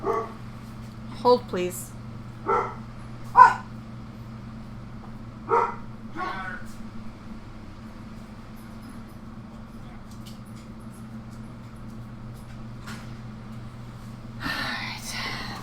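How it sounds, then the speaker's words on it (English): Pet dog barking indoors: a few short, separate barks and yips spread over the opening seconds at moderate distance, over a steady low hum, with quiet speech and a brief noisy burst near the end. "The dog really likes barking when nobody is there to help her."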